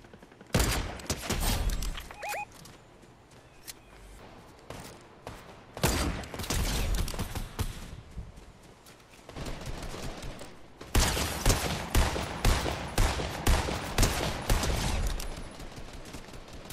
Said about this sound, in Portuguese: tem tiro aqui atrás